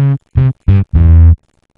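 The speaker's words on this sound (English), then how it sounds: "we're gonna add a distortion onto it" A synth or bass track with a distortion effect applied: four harmonic-rich, buzzy notes, the last one held longer, loud and dry, followed by silence.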